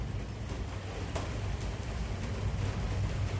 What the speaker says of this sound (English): And it's raining again pretty hard